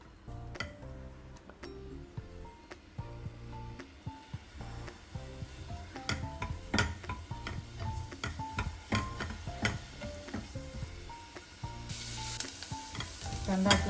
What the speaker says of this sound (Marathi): याच्यामध्ये हाफ चॉप केलेला कांदा, मला थोडंसं फ्राय करून घ्यायचं आहे